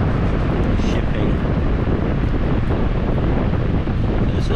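A Ryobi 18V Hybrid Air Cannon 18-inch drum fan blows hard, giving a steady, loud, close rushing roar that stays even for the whole stretch.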